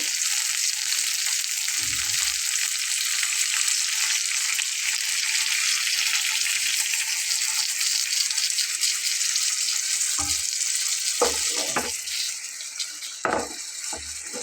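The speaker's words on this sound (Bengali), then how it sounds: "চুলার হিটটা কিন্তু হাই হিটে আছে যার কারণে কিন্তু পানিটার সাথে সাথেই ফুটছে" Water mixed with mustard paste bubbles and sizzles in a pan on high heat, a dense continuous hiss with a few low knocks and clatters toward the end.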